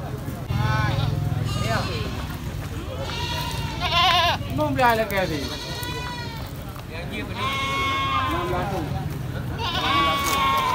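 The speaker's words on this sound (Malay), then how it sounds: "Nah, ini ada biri-biri ya, biri-biri jantan yang sedang berada di gelanggang" A ram bleats in a goat arena, giving repeated loud, wavering bleats across the stretch with crowd and voices talking underneath.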